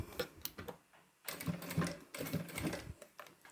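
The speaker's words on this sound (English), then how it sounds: "So I'm going to start stitching at that point there." A sewing machine stitches a half-inch seam with a back stitch, giving short bursts of quick mechanical whirring and needle clatter separated by brief pauses.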